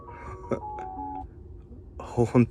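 Summon sound effect played through the infotainment system of a 2021 Tesla Model 3: a short sequence of clean electronic tones and chimes, followed by someone speaking.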